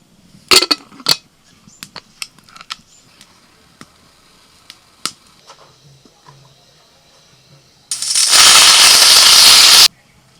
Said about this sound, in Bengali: প্রেসার কুকারে একটা সিটি পড়তেই আমি নামিয়ে দিয়েছি